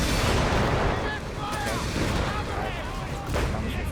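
Dense battlefield gunfire and artillery rumble fill a Company of Heroes 3 match as units fire on an AT gun, a continuous loud barrage of overlapping shots and blasts.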